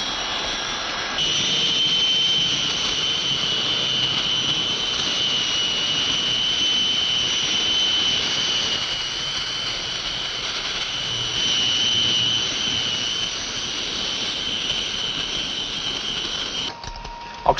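Jet engines of a four-engine airliner roaring steadily before takeoff, a loud sustained whine over a broad rumble that cuts off near the end.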